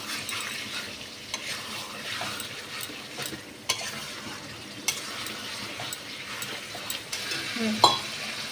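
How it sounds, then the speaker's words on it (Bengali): Pre-boiled potatoes tumble into spiced masala frying in a pot for alur dom, giving a steady close sizzle with repeated stirring scrapes and a few sharper clinks of a spoon against the pan. "এবার আমি এর মধ্যে আগে থেকে সেদ্ধ করা আলুগুলো দিয়ে দিচ্ছি।"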